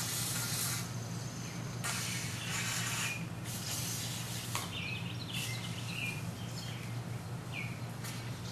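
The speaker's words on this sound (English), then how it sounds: "So you get it good and soaked with WD-40, and that'll make any water residue run out" WD-40 aerosol sprayed down into a rifle bore, soft hissing bursts that start and stop under a low steady background hum, with faint chirps in the distance.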